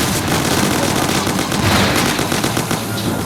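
Dense, continuous gunfire from the Mafia game, a rapid crackle of overlapping shots that fills the whole moment without pause and without voices.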